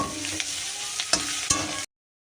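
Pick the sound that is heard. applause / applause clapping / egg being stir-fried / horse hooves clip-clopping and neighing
egg being stir-fried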